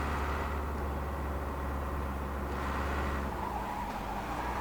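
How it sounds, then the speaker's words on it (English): A truck in Truck & Logistics Simulator makes a handbrake turn, with a steady engine drone and a broad hissing tyre skid throughout, easing off near the end. "A bit of handbrake turning."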